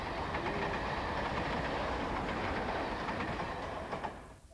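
A London train passing close by, a loud continuous rumble of wheels and engine with faint rhythmic rail clatter, holding steady before beginning to fade at the end, with no one speaking.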